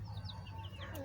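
Small chick peeping in a few faint, high chirps over a low steady hum, close but quiet, lasting only a second.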